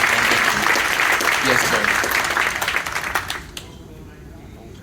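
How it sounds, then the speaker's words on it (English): Audience applauding veterans at a military appreciation event aboard the Carnival Glory cruise ship, a dense burst of many hands clapping that fades out after a few seconds, with a brief spoken word near the start. "how about a round of applause for those veterans as well?"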